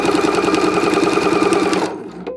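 A sewing machine hums through a fast, loud straight stitch on a potholder seam, running steadily for about two seconds, then stopping abruptly, leaving a brief clunk.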